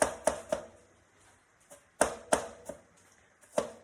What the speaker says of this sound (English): So if it's too much chopping for you or something, just fast forward.